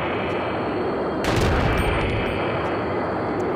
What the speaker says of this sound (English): I got a grenade launcher, how about that?